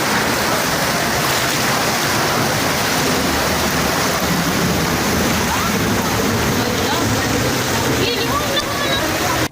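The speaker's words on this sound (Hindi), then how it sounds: "सुनिए, ज़रा आवाज़ें भी सुनिए, खौफनाक पानी की आवाज़ें।" Fast-flowing floodwater during heavy rain in Pune, a loud continuous rushing roar filling the whole clip with steady force and no breaks.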